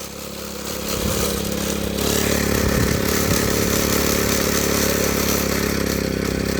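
Engine of a fodder-cutting machine revved hard, a loud rough roar with rattling clatter that rises in intensity after the first couple of seconds and holds steady, close by.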